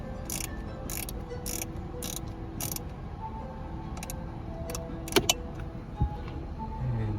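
Bolts snugged down on a Toyota 4Runner dash mount, giving faint mechanical ratchet-like ticks and clicks, with a few sharper clicks late on, under a steady background hum.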